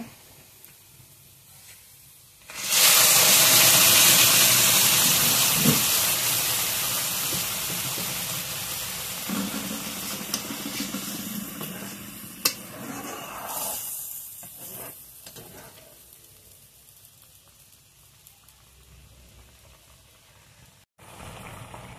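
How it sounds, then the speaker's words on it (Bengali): Moong dal poured into a hot pan of fried onion and garlic sets off a sudden loud hiss and sizzle that slowly fades into a softer, steady simmering sizzle over about twenty seconds. "এখন আমি ডালটা ঢেলে দেব।"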